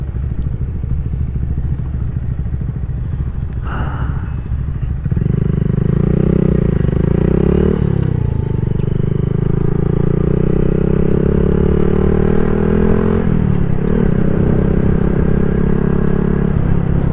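A motorcycle engine revs up and drones steadily while riding, its pitch rising and dipping with gear changes, loud and close amid rattling clatter.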